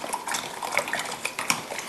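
A utensil clinks and scrapes against a bowl while seasoning is stirred into water for a vegan bread dressing, with quick irregular metallic taps and light swishing close by; no one talks.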